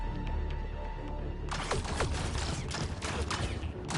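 Gunfire against remnant enemies in Mass Effect Andromeda, a dense burst of rapid shots and impacts starting partway through over steady background game noise, loud and close.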